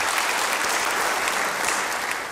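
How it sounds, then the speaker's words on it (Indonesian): A church congregation applauds, a steady dense roar of many hands clapping together, moderately loud and unbroken throughout. "Beri tepuk tangan bagi dia."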